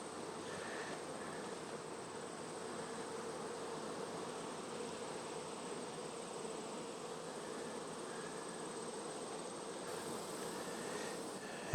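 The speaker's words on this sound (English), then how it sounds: "And lots of bees hanging out too." Honey bees buzz steadily around outdoor beehives, a soft, continuous insect drone that stays even and somewhat distant throughout, with no talking.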